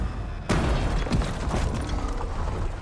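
An EMP blast in Horizon Forbidden West detonates as one sudden, sharp boom, followed by a sustained crackling, rumbling tail and a few smaller bursts.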